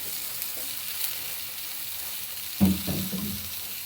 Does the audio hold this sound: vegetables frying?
yes